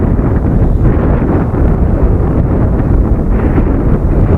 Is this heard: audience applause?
no